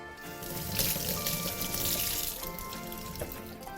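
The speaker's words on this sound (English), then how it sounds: "So for that, just pull off your celery and give it a wash." Tap water runs steadily over fresh celery stalks as they are washed, a soft continuous splashing that swells slightly in the middle and stays fairly quiet, with no voices.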